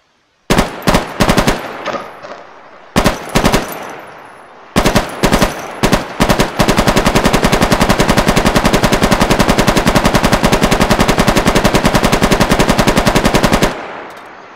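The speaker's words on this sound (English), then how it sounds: "The PKM, which is the main machine gun." A PKM machine gun in a modded video game, firing several short bursts followed by a long sustained automatic stream of loud, sharp, rapid shots, close and without talk.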